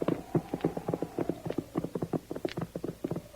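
Horses' hooves clip-clop along a desert trail, a quick run of sharp, close knocks in an uneven walking rhythm, heard clearly with no talk over them.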